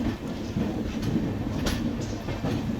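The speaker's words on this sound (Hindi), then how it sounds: "और चलिए अपनी ट्रेन निकल चुकी है गुंटूर जंक्शन से।" An Amrit Bharat Express train pulls out of Guntur Junction, a station set on a curve, with a steady rumbling roll and faint clicking of wheels over rail joints heard close and continuous.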